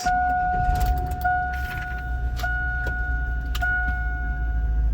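Ignition keys jiggled in a Chevy Silverado work truck: a steady two-tone warning chime sounds over a low engine rumble, with a few faint clicks and rattles.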